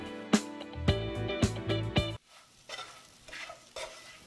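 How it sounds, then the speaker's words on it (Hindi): A spoon scrapes and clinks against a kadhai as green chillies cook, several sharp metallic knocks and stirring strokes up close, then a quieter stretch of faint sizzling. "बीच बीच में आप मिर्च को चलाते जरूर रहें, अगर आप चलाएंगे नहीं तो मिर्च कढ़ाई में जल जाएगी।"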